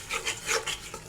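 Spice paste made with ground coriander leaves and a splash of water is stirred in a pan, heard as a few quick, close scraping strokes in a brief burst.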